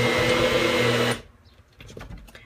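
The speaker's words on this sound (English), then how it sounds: "I don't necessarily recommend using the NutriBullet to do this" A NutriBullet blender whirs loudly and steadily while mixing homemade powder laundry detergent, then cuts off abruptly after about a second, leaving faint rustling and handling noises.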